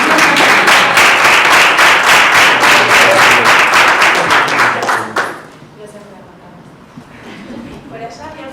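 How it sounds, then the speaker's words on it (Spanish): Applause from the audience at a round-table session of a university faculty's extension conference, steady dense clapping for about five seconds before it fades out into quiet murmuring and scattered voices. "yo creo que amerita un pequeño aplauso"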